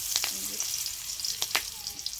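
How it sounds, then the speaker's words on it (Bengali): Onion and green chillies sizzle and fry in a fish-frying pan, a soft steady crackle with a few brief stirring scrapes, close and alone without talk. "আমি মাছ ভাজার কড়াইতে পেঁয়াজ আর কাঁচা লঙ্কাটা দিয়ে দিলাম।"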